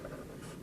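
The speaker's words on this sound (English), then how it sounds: "So I'm going to write that here." Marker or chalk scrapes on a board in one brief, continuous, faint stroke, heard close.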